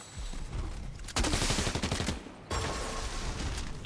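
Gunfire in the video game Fortnite, heard as two bursts of rapid shots with a quieter stretch between them, set against continuous game ambience.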